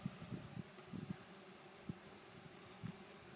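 Bees in a newly installed hive give off faint, scattered buzzing bursts over a quiet, low background hum, with brief louder drones coming and going close by.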